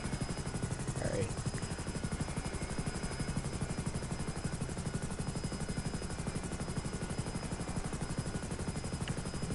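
A military attack helicopter in the video game GTA 5 drones with steady rapid rotor chop, loud and continuous throughout, with a faint brief sweep of another sound near the start.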